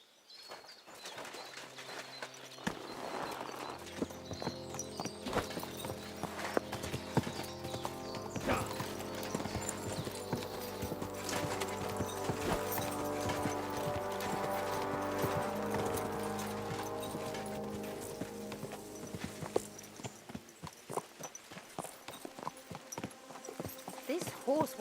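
Horse hooves clip-clopping at a steady walking pace in Kingdom Come: Deliverance II, continuous and fairly close, with voices talking over them and a musical drone underneath.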